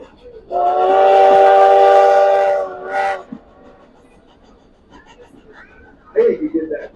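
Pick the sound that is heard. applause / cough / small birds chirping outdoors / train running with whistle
train running with whistle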